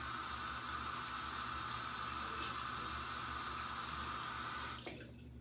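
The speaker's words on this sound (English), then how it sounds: "You're gonna rinse it off." A razor head plate is rinsed under a running tap, giving a steady close rush of water that stops abruptly near the end, leaving a quiet room.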